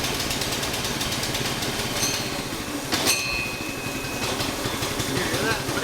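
A go-kart engine runs steadily nearby with its clutch stuck engaged, giving a continuous rough chugging drone with faint metallic ringing. A person talks over the engine.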